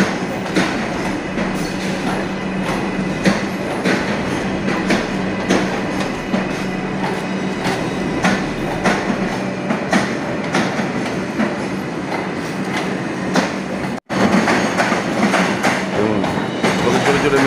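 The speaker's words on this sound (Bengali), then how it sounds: "পাশের মেট্রো লাইন থেকে মেট্রো যাচ্ছে।" A metro train runs along the line beside New Garia station, giving a steady, fairly loud rumble with rhythmic wheel clatter that continues almost unbroken throughout, with only a momentary dropout near the end.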